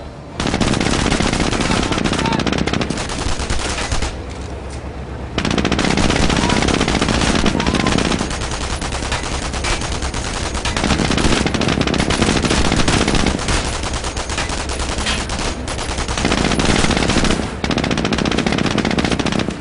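German machine guns fire in the World War II strategy game Company of Heroes. Long, loud, rapid bursts overlap almost continuously, with brief lulls between volleys and an occasional faint voice.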